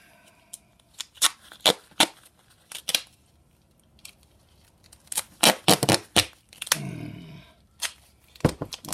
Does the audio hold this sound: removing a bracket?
no